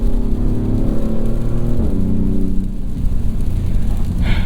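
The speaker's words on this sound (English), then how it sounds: "It's not the most charismatic engine, I will say." A 2024 Maserati GranTurismo Trofeo, all-wheel drive, accelerating hard on a wet road, its engine note climbing in steady harmonic sweeps that dip briefly at a gear change, loud and close with tyre hiss throughout.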